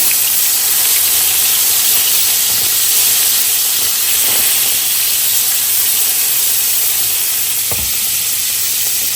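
Butter added to hot oil in a pan for beef noodles gives a strong, continuous frying hiss close by, with a faint low hum underneath and a few small clicks.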